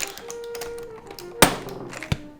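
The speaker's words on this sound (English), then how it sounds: "Come over here and take off the keycap." A keycap pulled off an Alps switch keyboard gives a sharp, close plastic snap, with a second, smaller click shortly after and faint handling taps around them.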